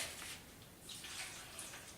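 Water splashing and trickling steadily into a can, a soft continuous pour with hissy, bright texture and no voices.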